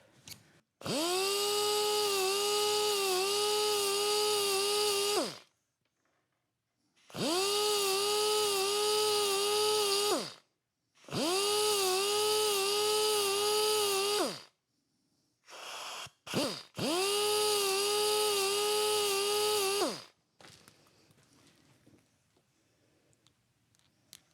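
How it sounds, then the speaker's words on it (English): A belt sander grinding metal whines loudly in four long bursts of several seconds each, with short pauses and a brief sputter between them; no talking. "I'm going to grab my belt sander and I'm going to knock off the edge of the square"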